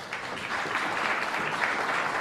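Audience applause at a Kashubian-language recitation contest, steady dense clapping from a hall crowd throughout, fairly loud and continuous with no break.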